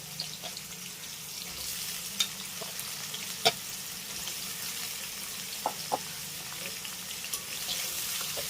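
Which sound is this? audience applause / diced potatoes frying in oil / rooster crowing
diced potatoes frying in oil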